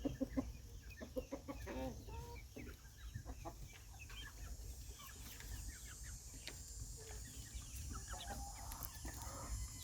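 A flock of laying hens clucks and murmurs close by in a chicken yard, with overlapping soft clucks and occasional louder calls continuing steadily throughout.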